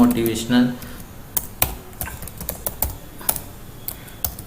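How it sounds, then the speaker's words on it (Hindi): Rapid typing on a computer keyboard, irregular clicking keystrokes at close range with a brief low voice-like hum at the start. "ऐसे ही आपको जल्दी जल्दी लिखना है, टाइप करना है"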